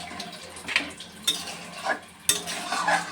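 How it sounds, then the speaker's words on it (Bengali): Egg curry bubbles gently in a pot after water is added, with a spoon scraping and clinking against the metal in scattered strokes over a low cooking hiss. "এই যে আমি একটু জল দিয়ে দিলাম, জাস্ট একটু ফোটাবো"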